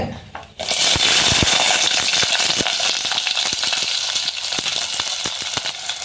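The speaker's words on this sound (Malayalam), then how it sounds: "കറിവേപ്പിലയും ഇട്ട് പത്തിരുപത് ചെറിയ ഉള്ളിയും ഇട്ട്" About twenty small shallots and curry leaves hit two teaspoons of hot coconut oil in a pan for Kerala-style ulli theeyal. A loud, steady sizzle starts abruptly, with light clicks of stirring throughout.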